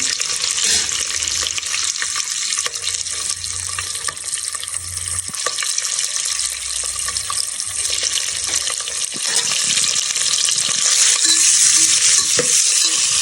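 Masala frying and being stirred for palak egg biryani, a loud, dense hiss of sizzling oil running throughout with intermittent scraping stirs, close and continuous.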